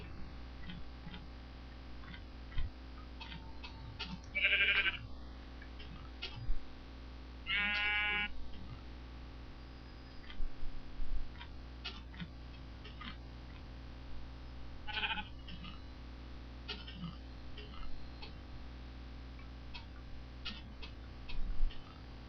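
Two short, distinct sheep bleats a few seconds apart, set against a steady low hum and faint ticking clicks, in the video game Minecraft.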